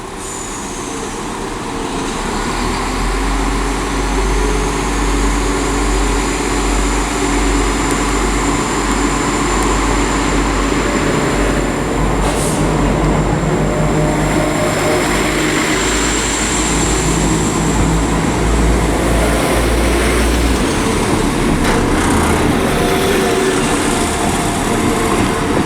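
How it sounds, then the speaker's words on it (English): West Midlands Railway passenger train departing Stourbridge Junction, a loud, sustained low engine rumble and rolling drone building slightly and holding steady for the whole stretch, close by, with no voices. "It's the 1257 West Midlands Railway service to Stratford-upon-Avon."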